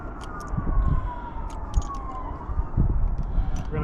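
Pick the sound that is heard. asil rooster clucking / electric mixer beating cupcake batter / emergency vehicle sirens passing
emergency vehicle sirens passing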